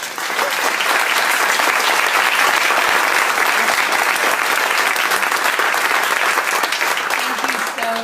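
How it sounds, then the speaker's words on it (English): A crowd applauds at the close of a district debate held at Lyft, a loud, even wash of clapping that holds steady throughout before easing slightly at the very end. "Now we can actually open up some applause."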